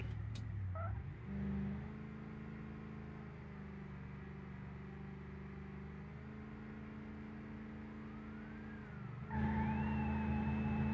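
Steady engine drone from a car towing a heavy trailer in BeamNG.drive, pitch stepping as it slows, then rising tire squeal and a louder sustained skid near the end as the tires lay rubber; no voices.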